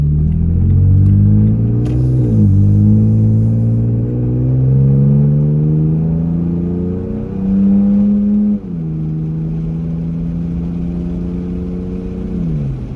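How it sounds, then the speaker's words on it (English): A Toyota Tacoma pickup with a new aftermarket exhaust accelerates toward highway speed with a window down: a loud, close engine drone that climbs steadily in pitch, drops abruptly at each gear change, then climbs again. "what the sound is coming from the exhaust"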